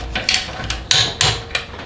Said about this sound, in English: I started using my torque wrench for stuff instead of just winging it. giving it a couple zaps.